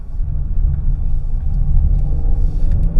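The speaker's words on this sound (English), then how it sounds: "There's definitely a lot more noise that comes out, particularly in Sport Plus." A 2024 Genesis GV70 Luxury Sport Line accelerating in Sport Plus mode, its engine giving a loud, steady low rumble that stays close and continuous throughout, with no voices over it.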